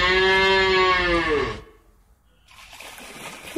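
A cow lets out one long, loud moo that fades after about a second and a half, followed by quiet and faint watery noise.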